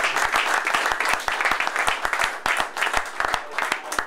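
At a press conference after a Serie B football match, a small crowd claps with distinct, fairly quick, uneven claps that carry on steadily for several seconds with no speech.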